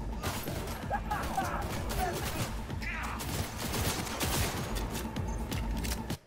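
Fire-spewing gun blasting continuously in Cyberpunk 2077, a dense roaring burst of gunfire that fills the whole stretch with a steady loud crackle, with game sounds layered underneath.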